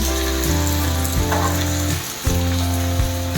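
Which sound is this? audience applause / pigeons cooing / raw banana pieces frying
raw banana pieces frying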